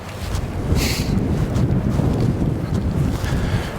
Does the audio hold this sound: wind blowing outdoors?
yes